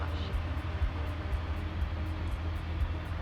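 A Piper Archer's piston engine drones steadily in flight, a constant low throbbing hum with cabin rumble filling the whole stretch, and faint voices mixed underneath.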